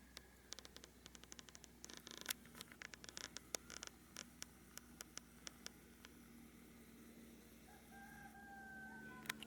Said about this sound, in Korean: 닭도 우는데 닭 소리도 나네.